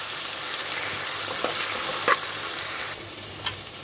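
Chickpeas frying and being stirred in a pan, a steady hiss of sizzling oil broken by a few soft scraping strokes of the spoon, close and moderately loud with no talking.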